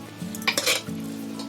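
A spoon mashes cooked mung beans in a pot for kheer, giving a few soft scraping, squelching strokes around the middle of a low steady hum, close by with no talk.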